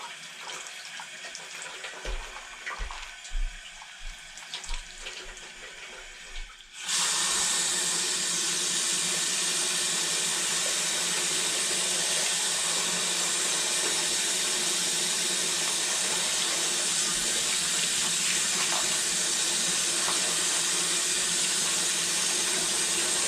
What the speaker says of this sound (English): So now I gotta dump this out, rinse them off, lay them out on a towel to dry